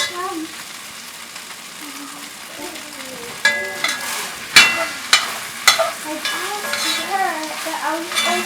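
Homemade broth made from bones is poured over loose meat frying for a spicy loose meat sandwich, giving a steady sizzle and scraping stirs, with bursts of louder hissing and clatter in the second half while a person talks.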